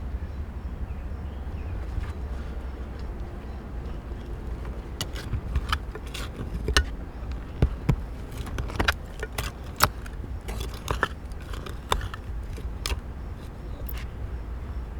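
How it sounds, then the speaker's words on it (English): Old glass bottles click and clink together while being dug out of a basement, sharp irregular taps scattered over a low background rumble, close and fairly quiet. "I just hear bottles clicking down here."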